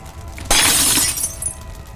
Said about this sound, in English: Glass shattered out across the ground outside.